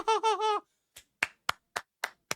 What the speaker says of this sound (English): we can hear him clapping